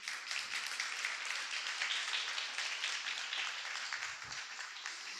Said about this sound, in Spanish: nuestra tortuguita se merece un aplauso por haber llegado al agua